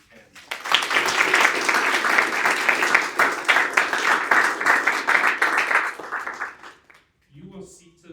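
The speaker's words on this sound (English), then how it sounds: "So please give them a round of applause if you can." An audience at an opening ceremony applauds the event sponsor, the clapping rising quickly and staying steady for several seconds before it fades, and a voice starts talking right after.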